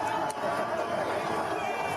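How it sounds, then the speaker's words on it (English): Comedy club crowd booing a comedian, a dense sustained roar of many voices with scattered shouts mixed in, loud and continuous throughout. "People are booing, but there's people going, yeah."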